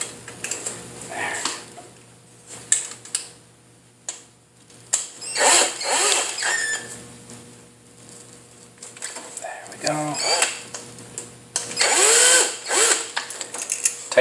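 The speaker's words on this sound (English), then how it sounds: "Tighten up the screws that we don't need." A power drill drives screws in bursts, short whirring runs with ratcheting clicks separated by pauses and handling noises, close by, while a person talks in between.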